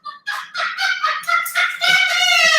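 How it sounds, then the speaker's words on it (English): A pet blind Amazon parrot gives a loud, close run of honking, squawking calls, several harsh bursts in quick succession ending in a sustained cry. "That bird cracks me up."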